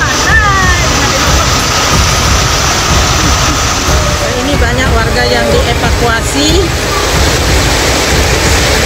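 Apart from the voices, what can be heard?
rushing floodwater in heavy rain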